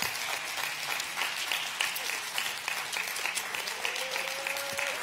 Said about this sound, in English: Can we give the Lord a clap offering this morning?